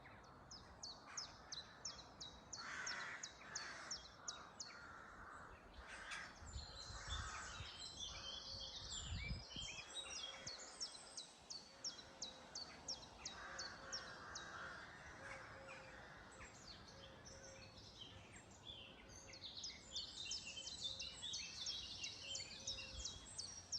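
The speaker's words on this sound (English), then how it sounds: "start listening to the sounds of the birds" Many birds, crows cawing most clearly among chirps and calls, sing all through an outdoor scene, with repeated caws near and far and a steady bed of song, no voices.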